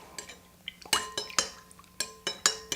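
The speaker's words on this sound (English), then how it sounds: "I like to kind of just mix it together a little bit before I add the spirit" A spoon clinks and scrapes against a punch bowl as the ingredients are mixed before the rum goes in, a string of sharp, close metallic taps and chinks at an uneven rhythm with quiet gaps between them.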